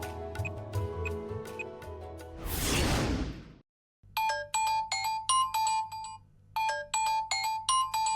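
A phone ringtone in a Tamil TV serial scene sounds after a tinkling melodic tone and a whooshing sweep, then repeats in steady electronic pulses, clear and fairly loud with no talk.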